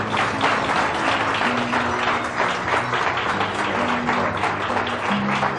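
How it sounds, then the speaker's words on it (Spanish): A church congregation claps steadily and loudly after a sermon, with dense continuous applause and a faint tonal hum of music or voices underneath. "Dele un aplauso a Cristo."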